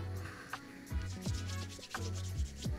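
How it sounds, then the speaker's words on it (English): Sandpaper rubbing in the video game Minecraft, a series of short scratchy strokes in an irregular rhythm, fairly quiet and heard alone. "Sandpaper in Minecraft."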